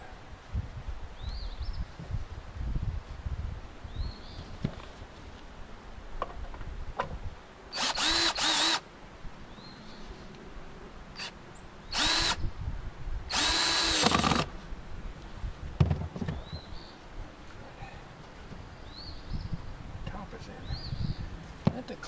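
Power drill driving screws during house construction, several short bursts of whirring drilling in the middle amid background clatter, with people talking faintly.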